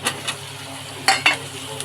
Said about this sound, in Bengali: পেঁয়াজটা নেড়ে চেড়ে কাঁচা লঙ্কা আলুটা দিয়ে দেবো এটার সঙ্গে ভাজা হবে